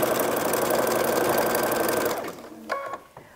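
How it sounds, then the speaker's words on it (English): A sewing machine stitches down the edge of a holiday fabric bowl cover, a steady, loud, close mechanical whir for about two seconds that then stops, followed by a few faint handling clicks. "Now I'm gonna cut this excess off and finish stitching it down."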